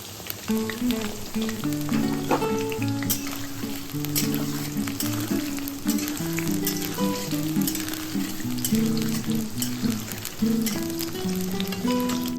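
Green chillies frying in hot oil in a home kitchen give a steady, close sizzle that runs through the whole stretch, with music playing underneath.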